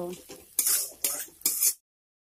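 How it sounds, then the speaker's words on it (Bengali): Ginger and five or six green chilies being stir-fried in a pan for masoor dal, with a metal spatula scraping the pan in three loud strokes that are close and clear, each with a soft sizzle and no talking. "এখন সবগুলি উপকরণ একসঙ্গে নেড়ে চেড়ে বেজে নেব"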